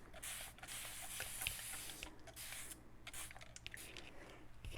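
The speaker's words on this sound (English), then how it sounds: "I'm actually going to spray this side while that's setting" Bursts of hissing spray paint come and go over a steady low hum, close to the microphone, with short pauses between them, while painting inlays.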